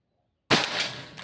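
A single sharp shot from a Pajero Gun Gen 6 toy gun on a test after half a second of silence, an abrupt loud crack with a brief hissing tail and a small second pop near the end.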